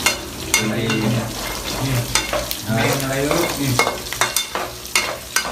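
Metal-on-metal scraping and clanking as food is tossed and stirred in a hot iron wok, with steady sizzling and a low hum underneath.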